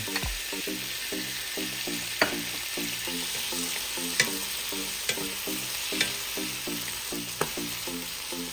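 Tomatoes are stirred into plenty of onions in a frying pan, with a steady sizzle under a regular rhythm of spatula scrapes and occasional sharper clinks against the pan, close and continuous.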